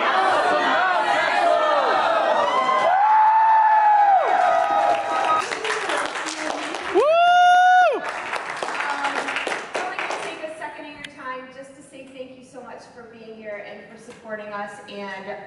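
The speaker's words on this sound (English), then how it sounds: "On three, House of Mouse Expo, and then we're cheering." A crowd at the House of Mouse Expo cheers and applauds loudly alongside bursts of chatter. Voices are heard shouting together throughout, and the energy fades into mixed talk and scattered noise toward the end.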